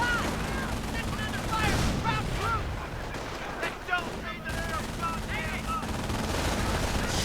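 An MG42 machine gun and other battle gunfire in a World War II video game match: dense, continuous bursts and explosions rumble throughout, with a commentator talking over the action.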